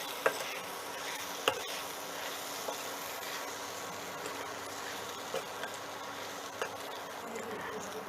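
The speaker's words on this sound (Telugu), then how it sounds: "ఇప్పుడు ఇందులో రుచికి సరిపడా ఉప్పు, కారం వేసుకుని దీన్ని ఇంకో నిమిషం వేయించుకుందాం" Raw banana filling frying in a pan with salt and chili, a steady low sizzle with occasional faint scrapes and taps of a spoon stirring, no talk.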